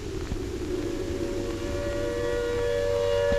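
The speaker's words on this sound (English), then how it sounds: "Then the air raid siren wails again" An air raid siren wails in a bombed postwar German city, a steady rising tone that holds loud and sustained over a low rumbling background.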